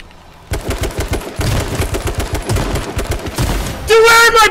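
Rapid automatic gunfire from H1Z1, loud and close, a dense rattling burst that runs nearly the whole stretch, ending in a brief sharp tonal alarm-like sound.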